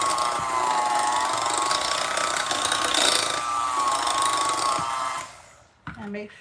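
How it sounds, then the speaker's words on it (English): A stand mixer churns pumpkin pie filling in a home kitchen, its motor whirring steadily with a mechanical gear rattle for about five seconds before winding down and stopping. "We'll have more room in my stand mixer."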